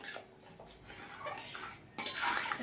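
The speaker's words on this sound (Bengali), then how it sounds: "এইবারে খুন্তিটা নেব আর এইভাবে চালাবো" A metal spatula scrapes and clinks against a pan holding raw oil for a raw fish dish, with a few light taps, then a brighter, louder burst of scraping at the end. No one speaks.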